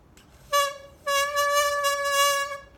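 A bassoon played with too little reed in the mouth, giving thin, weak, reedy tones: a short blown note followed by a longer held note, alone and fairly close.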